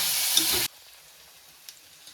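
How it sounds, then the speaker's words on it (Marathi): Wild mushrooms fry in hot oil in a village kitchen, giving a loud, dense sizzle for just over half a second before it cuts off abruptly, leaving near silence with a couple of faint clicks. "तेल त्याची मस्त भाजून घ्यायचं."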